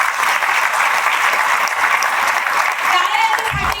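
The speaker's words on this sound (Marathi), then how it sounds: "हे दोघांसाठी एकदा टाळ्या झाल्याच पाहिजे" An audience claps for two event hosts in a loud, sustained burst of applause that stays dense and even throughout, with a low thump near the end.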